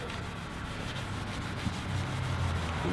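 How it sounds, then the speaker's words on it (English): Steady rubbing of a cloth wiping down a Ford F150 trailer hitch area being cleaned, a continuous close scrubbing swish with no speech. "Give it a good wipe."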